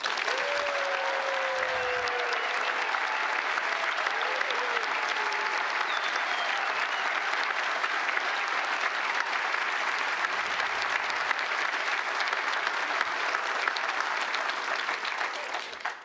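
A large audience at a medal day ceremony honoring Yoko Ono applauds in a dense, steady roar that holds at the same level for the whole stretch before tailing off at the end.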